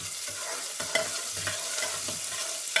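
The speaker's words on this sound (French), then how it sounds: "Là, vous versez les oignons et vous continuez" Onions sizzle in a frying pan while being stirred for a rice pulao with raisins. A steady hiss of frying runs throughout, broken by soft scraping stirs at a roughly regular rhythm, close up.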